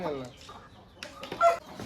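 A pet rooster, a year-plus-old bird offered for sale, gives a few close, short clucks between stretches of people talking.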